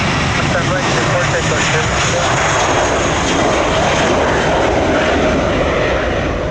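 Loud, steady jet roar of an airliner taking off from Orlando International Airport on a windy morning, a dense continuous rumble that holds throughout, with faint voice chatter beneath it.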